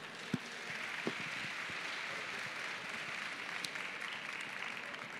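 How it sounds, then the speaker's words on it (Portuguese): Applause from an audience, a steady wash of clapping heard from some distance, with a few louder claps standing out near the start. "uma salva de palmas"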